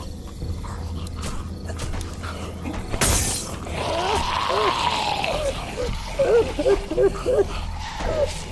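Car window glass shattering, broken with a spark plug's ceramic in a Korean-dubbed Walking Dead scene: one sudden loud burst of breaking glass partway through, over a steady background of insects and outdoor ambience.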